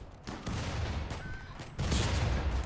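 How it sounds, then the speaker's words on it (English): A RimWorld battle with rattling bursts of gunfire and heavy explosive thumps. The firing swells louder partway through and continues without pause. "There's a lot of fire down here."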